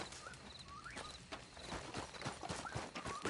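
Horse hooves clip-clopping in the Red Dead Redemption 2 video game, a quiet irregular run of hoofbeats on a trail with faint bird chirps in the outdoor background.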